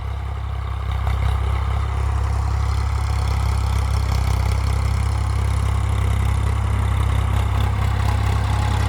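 A modified Ford 3600 tractor engine running steadily at 1300 rpm out in a field, a loud, close, even diesel drone with a deep low rumble and no speech.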